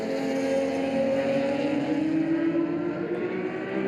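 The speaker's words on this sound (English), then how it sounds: "He's accelerating and braking down for the last corner to exit it." A historic touring race car at the Hungaroring circuit holds a steady, loud engine drone as it accelerates and brakes into a corner, its pitch shifting slightly; no voices.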